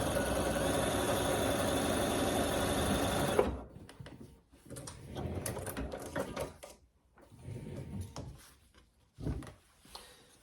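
A domestic sewing machine stitching fabric strips runs in a loud, steady whir for about three seconds, then stops, followed by quieter handling rustles and brief bursts of the machine.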